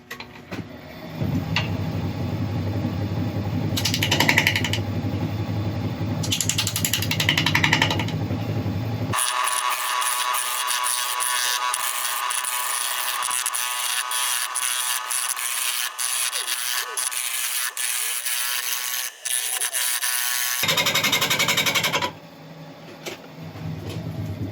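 A turned wooden bowl spins on a lathe while abrasive sands its surface, giving a steady close rushing hiss with a lower motor hum in the quieter stretches before and after.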